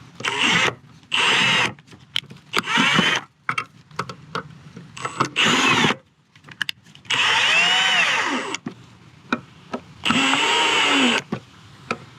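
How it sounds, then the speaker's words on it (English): A screw gun drives a screw into an outdoor outlet box in repeated short whirring bursts separated by silent gaps, with a few longer pulls near the end, close and clear without speech. "even though you're using a screw gun, you don't want to over tighten them"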